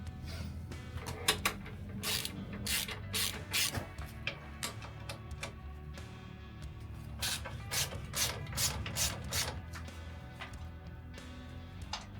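Screws are worked out of the engine protection bar on a Yamaha Tenere, giving a quiet run of irregular metallic clicks, rattles and tool scrapes spread across the stretch with no voices.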